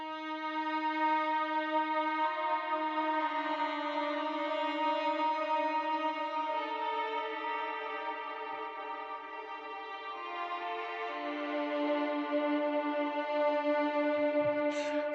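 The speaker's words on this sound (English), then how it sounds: "And then we moved on to the violin, which sound like this." Violin part in an Ableton Live track, a smooth sustained line of long legato notes over a steady harmonic bed, even and moderately quiet, with no voices.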